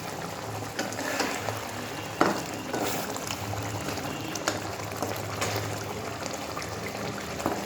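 Fish curry simmers in a pan with a steady low bubbling hiss, broken by a few sharp clinks and taps.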